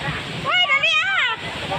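Floodwater rushes through a Davao City street as a steady broad roar, with excited voices crying out loudly over it in the middle of the clip.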